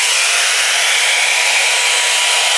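Revlon One Step round brush hair dryer on its hottest setting, a steady loud airy whoosh with a constant motor hum, unchanging and alone.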